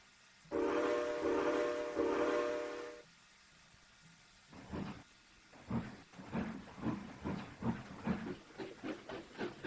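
In the video game Trainz 2019, a train whistle blows in a long harmonic blast, then a train chugs with a steady rhythmic puffing that repeats and quickens.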